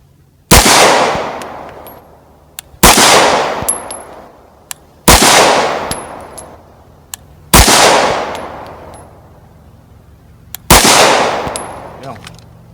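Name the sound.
CZ P07 pistol shots at a shooting range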